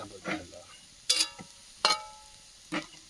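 Onions and masala fry in a pan for a chicken curry, heard as four brief, crisp bursts of stirring and sizzling scrapes spaced about a second apart.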